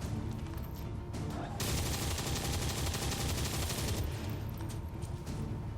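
A soldier's gunshot in XCOM 2, a loud sustained blast of fire that swells abruptly and holds for a couple of seconds before cutting back to quieter background clatter.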